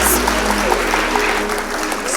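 Audience applause at the Wellington College Arts Awards 2021 prize giving, a steady roar of many hands clapping in a hall, loud and continuous for about two seconds, with a voice faintly mixed in.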